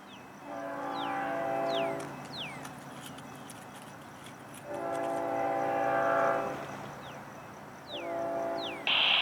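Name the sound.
Florida East Coast freight train led by GEVO locomotives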